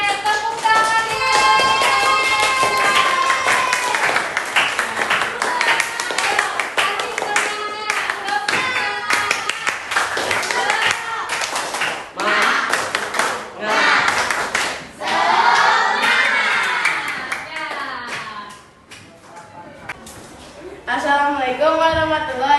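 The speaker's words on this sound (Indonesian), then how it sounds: "Tepuk tangannya." A classroom audience claps in bursts of applause mixed with voices and cheering, the clapping fading and returning with talk in between.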